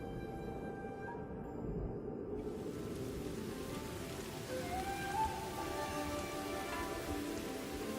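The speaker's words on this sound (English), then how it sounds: "But this is no spring shower. It's a gully washer." A heavy rain downpour pours steadily as a dense, even hiss of drops striking surfaces, continuous and close throughout, with faint tonal calls or sounds drifting in partway through.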